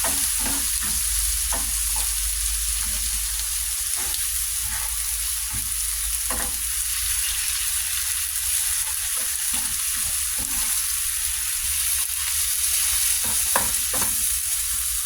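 Onion and tomato fry in a pan beside bangus being cooked, giving a steady close sizzle for the whole stretch, with scattered spatula scrapes and taps and no voices.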